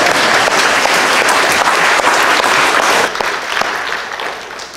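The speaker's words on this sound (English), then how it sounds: "feel like that needs an amen and a hand clap" A church congregation claps together in sustained, dense applause during a worship service, staying loud and steady before thinning slightly toward the end.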